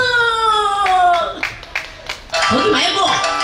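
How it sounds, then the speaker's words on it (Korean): An audience at a Korean outdoor pumba street performance by a hot spring claps on request, first a few scattered claps and then a fuller burst of clapping, following a performer's voice. "박수 한번 주세요"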